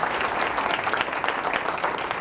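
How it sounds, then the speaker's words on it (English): Steady applause from a crowd at a county government event, continuous clapping that fills the whole stretch without a break. "One more round of applause for Mayor Hutto"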